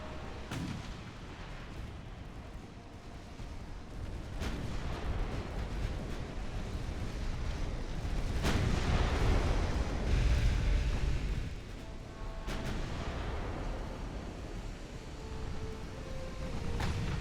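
Naval guns fire repeatedly during a ship battle against a destroyer in Ultimate Admiral: Dreadnoughts, with booming shots at irregular intervals over a continuous rumbling battle backdrop. No one talks.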